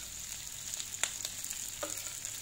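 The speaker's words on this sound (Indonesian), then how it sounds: "Kita akan tumis cabai" Green chilies sauté in a pan with a quiet, steady sizzle and a few light taps and scrapes of a spatula.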